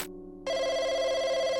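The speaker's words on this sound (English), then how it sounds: "In the midst of waiting for Miss Chen, the phone rang," A telephone rings in a Chinese horror video game, with a steady electronic bell tone that starts softer and then jumps to a louder, sustained ring.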